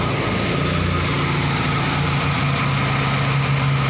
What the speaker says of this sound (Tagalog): Ayan po ang makina niya